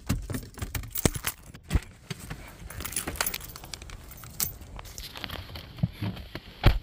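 Keys jangle and clink close by in repeated bursts, metallic and bright, with some handling rustle and no talking.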